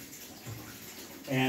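Water from a cistern starts rushing through irrigation plumbing as a valve is opened, a sudden loud gush that kicks in at the very end after a quiet background.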